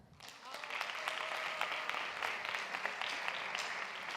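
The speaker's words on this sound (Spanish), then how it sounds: "Un fuerte aplauso para Marta." A conference audience in Spain applauds a speaker named Marta as she takes the stage at a technical seminar, a dense, steady wash of many hands clapping close by that holds evenly for several seconds.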